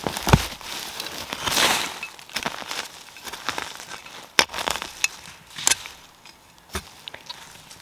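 Someone handling an old mason jar lid with insulator and bits of glass, giving scattered sharp clinks, crunches and scraping taps that come in irregular bursts at close range.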